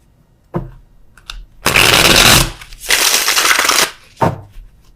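Tarot clarifier cards are shuffled close up in two loud, papery riffling bursts, framed by softer taps and slaps of cards being handled and drawn, with no speech.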